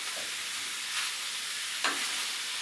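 Ground meat and peppers sizzle steadily in a hot pan, a bright continuous frying hiss with brief scraping swishes as a utensil stirs through the mixture.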